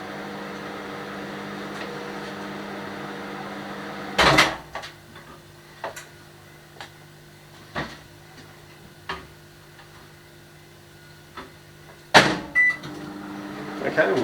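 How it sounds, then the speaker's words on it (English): A microwave oven hums steadily while heating a cheese mix for strawberry cheesecake, with loud clunks at the start and near the end and scattered small taps and knocks around the kitchen in between. "just waiting on the microwave"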